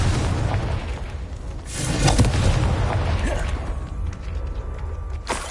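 Confringo blasting spell in Hogwarts Legacy, a fiery magic blast, loud booming explosions with crackling debris and creaking mechanisms, one heavy burst near the middle and another sharp hit at the end.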